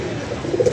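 Pigeons coo close by in a brief, soft burst of low throaty murmuring that swells slightly toward the end, with no talking.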